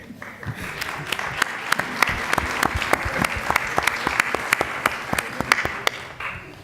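Audience at a debate on precarious work breaking into applause, a dense spread of clapping hands with a few sharp individual claps standing out, sustained for several seconds before tapering off.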